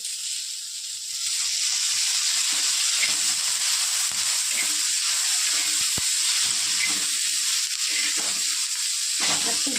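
Steady sizzling of cumin seeds frying in oil, a continuous bright hiss with light crackles throughout, close by and fairly loud, no talking.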